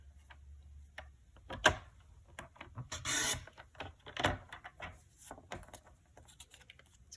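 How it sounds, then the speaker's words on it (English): Scattered rubbing and scraping strokes with light ticks come from a strip of paper being trimmed for a handmade 3D folded card, close up, with no talking. "I'm going to trim that down to, let's do"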